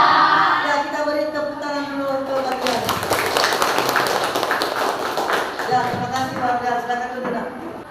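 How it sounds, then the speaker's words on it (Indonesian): A classroom of students claps for a classmate during an Islamic prayer lesson, a dense burst of hand claps rising for a few seconds among children's voices and talk. "Ya, kita beri tepuk tangan dulu untuk"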